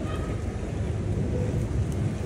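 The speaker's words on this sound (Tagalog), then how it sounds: "grabe lakas ng lakas ng kulog niya po" Heavy rain and strong wind roar during a thunderstorm near a beach, with a deep rumble of thunder rolling beneath the dense, steady downpour heard close from a window.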